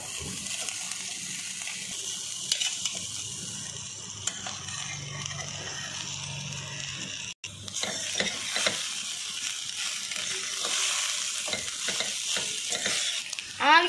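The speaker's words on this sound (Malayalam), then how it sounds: "ബീൻസും ക്യാരറ്റും നെയ്യിലിട്ട് 5 മിനിറ്റ് ആയിരിക്കും നമുക്ക് ചോറ് ഇതിലോട്ട് ചേർത്ത് കൊടുക്കാം." Cooked rice is stir-fried with beans and carrots in ghee, giving a steady sizzle under repeated scraping and stirring of the pan, with a brief pause before the stirring resumes more busily.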